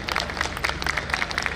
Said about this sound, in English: Let's give them a thunderous round of applause once again, everyone.